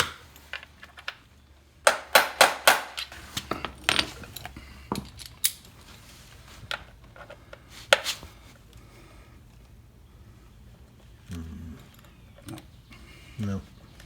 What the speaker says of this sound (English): Tap on the end of the socket with a little hammer, and it'll kind of jar it